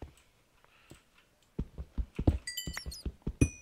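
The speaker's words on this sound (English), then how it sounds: "I hear bats, which means there will be other creepy crawlies down there" High, thin squeaks chirp from bats in a dark cave in Minecraft, rising over a run of clicky, tapping footsteps and block noises that start partway through, close and fairly loud.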